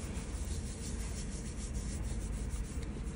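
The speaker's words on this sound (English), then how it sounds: "You're going to rub." Folded paper is rubbed firmly by hand, making a continuous dry scraping and brushing noise that stays loud and close without a break through three seconds.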